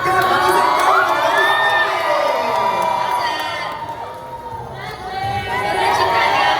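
Crowd at a Christmas concert at a Hong Kong food festival screams, cheers and whoops loudly and continuously, with children's shouts mixed in and a brief dip before the roar swells again.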